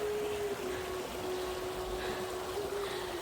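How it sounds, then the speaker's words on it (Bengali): Mountain stream of meltwater from snow in Japan, a steady close rush of flowing water with an unbroken hissing texture and a faint tonal hum running through it, with no talking. "একটু কান পেতে শুনুন ঝর্ণা নদীর কলকল শব্দ।"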